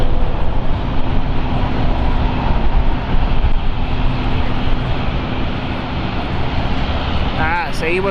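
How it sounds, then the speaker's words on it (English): A Dash 8 propeller plane at London City Airport makes a loud, steady engine and propeller roar that continues throughout, heard close and unbroken. "Got a lot of that prop plane, haven't you? The Dash 8."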